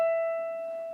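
One high piano note held alone, steady and clean, fading slowly over about a second, quiet and close.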